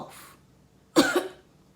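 Two coughs: a faint, muffled one first, then a sharp, louder cough a moment later, with quiet in between.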